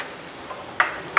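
Cumin and coriander powder fry in a pan while making a chara pona fish curry, giving a soft, steady sizzle with two brief sharp clinks near the end.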